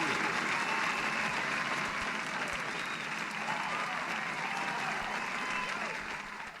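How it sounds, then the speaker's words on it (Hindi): An audience at a Jain religious quiz event during Dashlakshan festivities in Nehanagar, Sagar, gives the contestants a sustained, loud round of applause that holds steady and then begins to fade near the end. "चलिए जोरदार तालियां हो जाएं पहले प्रतियोगियों के लिए।"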